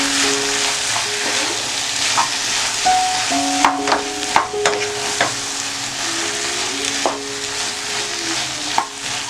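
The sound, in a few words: stirring tapioca with egg and turmeric in a pan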